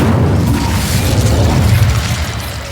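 In Hogwarts Legacy, an Incendio fire spell is cast as a loud, continuous roaring burst of flame with a whooshing, booming texture that holds for a few seconds without talk.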